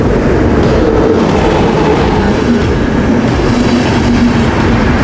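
Slovak Eurocity train Strela 378 passing at close range, a loud continuous rumble of rolling wagons with steady wheel noise and faint rhythmic clatter throughout, no voices.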